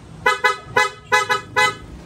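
Aftermarket Blowpunk shell horn on a Yamaha NMAX V2 scooter blares in five loud, close bursts, some paired, in quick succession with short gaps between.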